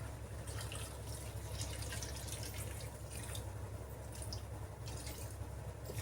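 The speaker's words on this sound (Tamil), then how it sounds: "இப்போ வேணுங்கிற அளவுக்கு தண்ணி ஊற்றிக்கலாம்." Water pours steadily into a pan of chicken curry masala (kolambu) for the whole stretch, a quiet, even wash of liquid with no voices.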